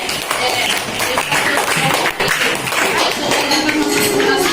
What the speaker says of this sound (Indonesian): Beri tepuk tangan untuk kelompok Nyai.